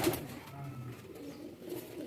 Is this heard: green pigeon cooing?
yes